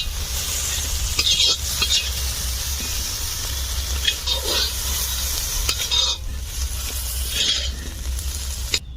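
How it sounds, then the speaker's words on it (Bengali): Shrimp frying in oil with a little turmeric in a village kitchen, a steady close sizzle broken by repeated scraping stirs of a spatula. "মনে হয় চিংড়িগুলো লাল করে ভাজা হয়ে গিয়েছে এবার তুলে নেবো"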